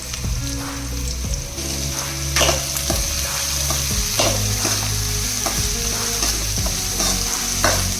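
Alasande beans and onion fry in a pan with a steady, loud sizzle, broken by the scrape and clatter of a spoon stirring now and then, close up with no talk.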